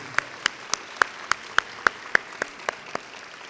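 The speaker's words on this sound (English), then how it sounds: "How about a round of applause for our extraordinary faculty for helping you get to where all of you are" Applause for faculty at a spring awards convocation, heard as a slow, evenly spaced series of about a dozen sharp claps, near and distinct, like a single pair of hands or a thin rhythmic clap.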